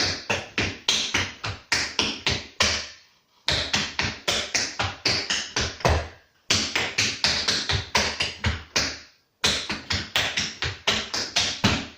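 Tap dance steps in a repeating step, scuff, hop pattern: crisp, close metallic taps in quick rhythmic phrases, separated by brief pauses.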